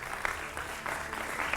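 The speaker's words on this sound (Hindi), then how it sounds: "जोरदार तालियों से स्वागत कीजिए" A studio audience at a Hindi television debate show claps to welcome a political spokesperson as a guest, giving dense, steady applause that fills the whole moment without pause.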